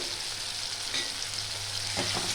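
Turmeric, chilli powder, Kashmiri chilli and salt fry in hot oil for a rohu fish mustard curry, a steady close sizzle with a couple of stirring scrapes near the end.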